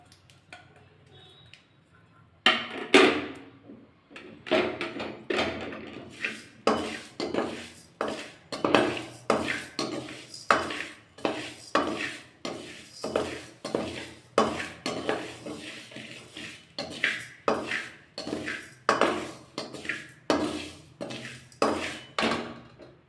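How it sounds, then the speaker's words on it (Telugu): Urad dal is dry-roasted in a pan, heard as a long run of regular metallic scraping and clinking strokes from a spoon stirring against the pan, close and rhythmic, with no talking. "ఇప్పుడు మినప్పప్పు వేయించుకోవాలి"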